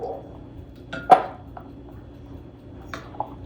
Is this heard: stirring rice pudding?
yes